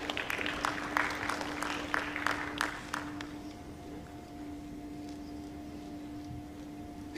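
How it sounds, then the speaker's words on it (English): Applause from an audience at a televised meeting, a patter of claps for a representative that fades after about three seconds, leaving a faint steady hum. "A big round of applause for Ajiamondo."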